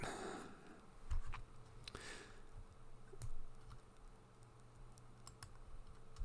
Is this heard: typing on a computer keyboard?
yes